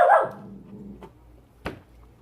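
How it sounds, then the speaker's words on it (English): A dog yelps and barks sharply at the start, reacting to ice dropping in a kitchen ice maker, followed by a couple of softer whimpering sounds and a brief thump in an otherwise quiet room. "the ice dropped in the ice maker and the dog is freaking"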